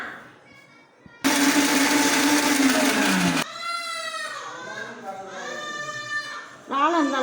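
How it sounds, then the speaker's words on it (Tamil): A mixer grinder jar grinds prawns in a loud, dense whir that runs for about two seconds, then stops abruptly; someone speaks before and after the burst. "மிக்ஸி சாரில் போட்டு கொஞ்சம் அரைச்சி எடுத்துக்குவோம்"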